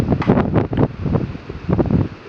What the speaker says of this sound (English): Of all the days to have a wind gust